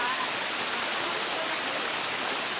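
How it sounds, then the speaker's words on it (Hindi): Water plunges from high up at a hill-station waterfall in Amboli, making a loud, continuous broadband roar with no pauses. "बहुत ऊपर से पानी आ रहा है"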